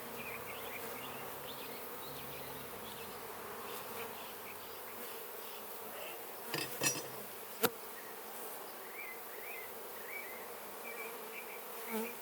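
Honeybees buzz steadily around an open hive during an inspection of frames holding pollen, honey, eggs and larvae, a close, continuous drone with a few brief knocks and clinks partway through.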